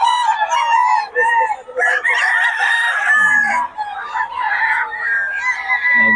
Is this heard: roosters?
yes